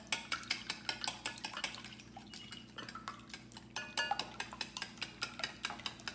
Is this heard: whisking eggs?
yes